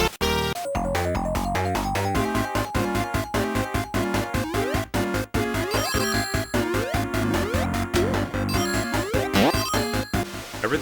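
Pitched-down, distorted Sega Genesis game audio from a Mighty the Armadillo ROM hack plays on an AtGames console, a dense, busy jumble of detuned chiptune music and clashing effects running loudly and continuously, with no talk.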